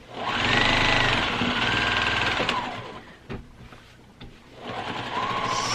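Sewing machine stitching straight lines across a small quilt, a fast steady mechanical whir that runs for about three seconds, pauses with a few clicks, then resumes; close, with no talk.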